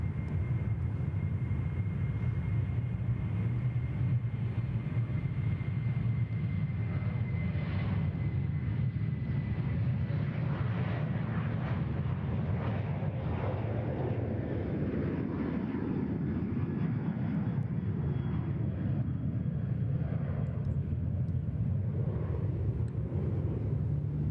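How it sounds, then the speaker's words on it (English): A Virgin airliner with split scimitar winglets departs runway 34 right at Sydney Airport. Its jet engines give a sustained, distant rumbling roar that holds steady throughout and swells slightly in the middle as it passes. "Virgin about to depart here, runway 34 right with those lovely scimitar winglets, the split skimmies."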